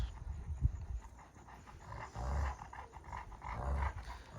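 Two leader Kangal dogs contest dominance beside a caged female, producing low, rumbling growls and heavy panting that run continuously and faintly, with no voices.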